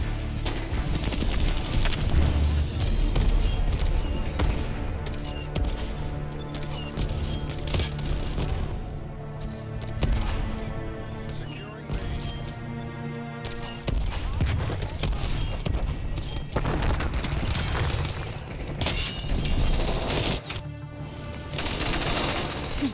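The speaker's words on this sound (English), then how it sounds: "Dude over here shooting my body." Call of Duty: Black Ops gunfire, including a 1911 pistol, crackles in rapid bursts and sustained volleys with booming impacts, loud and dense throughout the match.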